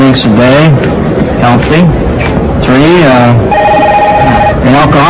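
A telephone rings with a steady electronic trill in a film scene, heard in a short burst partway through and largely buried under loud continuous speech.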